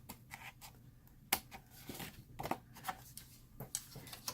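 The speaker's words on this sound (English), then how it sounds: "we're gonna get some scissors and just kind of clean this up a little bit" Scissors trim torn cardstock paper for a handmade card, giving a series of soft, close snips and crisp paper rustles at irregular intervals in a quiet room.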